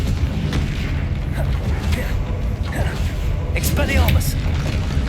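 Confringo spell blasts in the wizarding video game Hogwarts Legacy, a steady run of booming explosions and crackling magic with shouted voices over the top.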